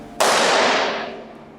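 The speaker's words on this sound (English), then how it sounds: "That was really a great explosion." A balloon inflated by expanding liquid nitrogen bursts in a single loud, sharp bang, and the noise then fades gradually over the next second and a half.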